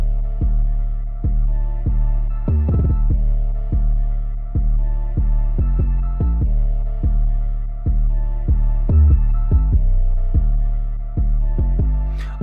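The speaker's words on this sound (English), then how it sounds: "you can kind of hear in this particular 808 that it boosts the tail end of the 808" An 808 bass with its tail boosted by EQ pounds in a steady repeating pattern, each deep hit swelling then fading into a long rumbling tail, loud and up front.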